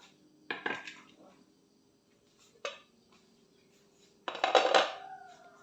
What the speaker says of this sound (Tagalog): So, isalang na natin ito sa ating kalan.